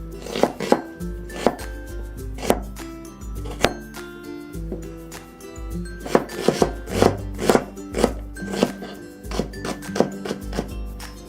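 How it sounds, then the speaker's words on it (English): Knife mincing an onion on a board, a steady run of sharp, close chopping taps in quick bursts with brief pauses, loud and alone. "For the prep, let's start with cutting the onion. We'll do a mince on this."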